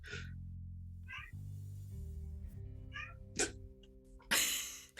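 A cat meows a few short times over a steady low hum, with a brief sharp burst near the end, fairly quiet and close.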